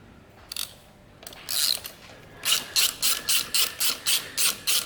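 A ratchet wrench loosens bracket bolts on a 2017-or-later Harley-Davidson Touring motorcycle with a Milwaukee-Eight engine, giving a few short clicks followed by a close, steady run of about nine rhythmic ratcheting strokes.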